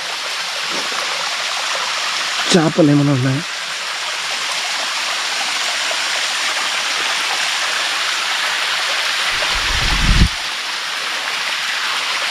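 A waterfall stream in the Vempalli forests of Rayalaseema rushes in a steady, broad hiss that fills the whole stretch, with a voice breaking in briefly twice over the flow.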